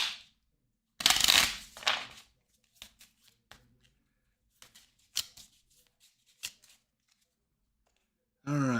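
Playing cards from an Eldritch Horror board game deck being shuffled, a loud riffling burst near the start followed by scattered soft card taps and snaps, with a brief ruffle at the end.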